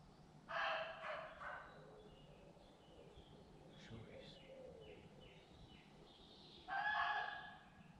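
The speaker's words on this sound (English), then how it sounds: "Fox. Yeah, they make a high pitch." Two loud, high-pitched fox calls ring out close by at night in an English woodland, one at the start and another about six seconds later, with a dim, hushed stretch between them.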